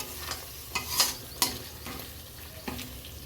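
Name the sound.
masala frying and being stirred in oil for chicken chaap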